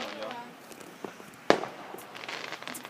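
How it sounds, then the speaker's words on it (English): Neighbourhood fireworks and firecrackers pop and crack at a distance, with one sharp nearer bang, while people talk nearby. "This firework is nothing compared to baseball."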